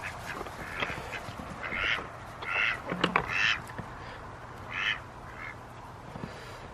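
Chickens in a coop cluck and squawk softly in the morning, with scattered calls a second or two apart at moderate distance over low background noise.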